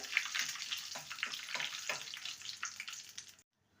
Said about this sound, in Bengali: ফোড়নটাকে ভেজে নেবো